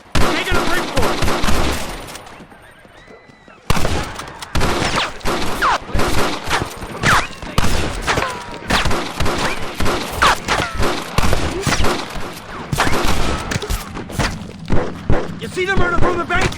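Dense, loud gunfire crackles through a shootout in the video game Red Dead Redemption, with repeated shots and thumps nearly continuous, briefly pausing, then resuming under shouted voices and game audio.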